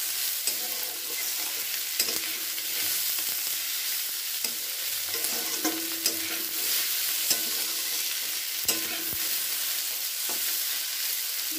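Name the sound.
stirring fried bitter gourd and eggplant in a pan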